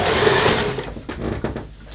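A sewing machine stitches teddy bear fabric in a fast whirring burst that stops abruptly partway through, followed by a few soft handling knocks.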